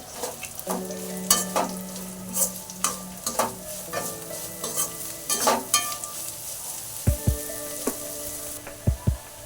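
Grated coconut stirred into a sizzling village-style green gram palya, with repeated close scraping spoon strokes against the pan over a steady frying hiss, and no speech.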